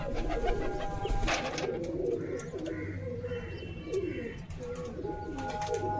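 Pigeons coo softly and repeatedly at close range, with soft rustling and faint chirps around them.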